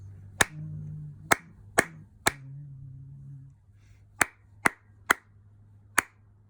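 A single person claps out a rhythm exercise with sharp, isolated hand claps at uneven spacing. A burst of four is followed by a pause, then four more. A faint low hum runs underneath.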